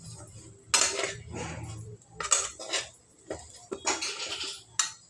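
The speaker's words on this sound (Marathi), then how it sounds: "या भाजीला चांगलं मिक्स करून घ्यायचं आहे व्यवस्थित हलवून घ्यायचं आहे" Bitter gourd vegetable being stirred and mixed in a pan, heard as short bursts of scraping and clinking from a utensil against the metal, separated by brief quiet gaps.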